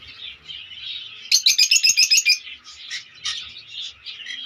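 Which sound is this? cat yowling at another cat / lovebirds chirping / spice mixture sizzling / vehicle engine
lovebirds chirping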